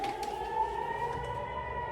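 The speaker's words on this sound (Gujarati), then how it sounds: "સાયરન વાગ્યું" A civil defense air raid siren sounding in Israel holds a steady, sustained wail, faint and distant, with no voices over it.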